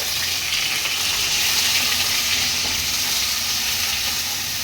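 Grated onion and chillies sizzle and crackle in hot oil in a pan, a loud, steady frying hiss lasting the whole stretch with no one talking.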